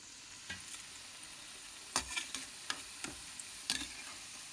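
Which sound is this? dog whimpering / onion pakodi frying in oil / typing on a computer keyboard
onion pakodi frying in oil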